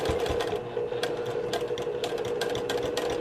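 A sewing machine stitches a zipper into a quilted tote bag, running as a continuous, fast and even mechanical whir with rapid ticking, close and loud throughout, with no voice over it.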